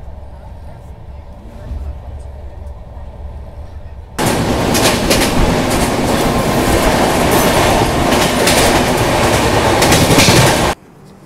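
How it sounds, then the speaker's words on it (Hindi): The Bihar Sampark Kranti Express, New Delhi to Darbhanga, runs on rails while overtaking another train. A quieter rumble gives way abruptly to a loud, sustained rush of wheels and clattering that lasts several seconds, then cuts off sharply. "अभी अपनी ट्रेन ओवरटेक कर रही है विक्रमशिला एक्सप्रेस को"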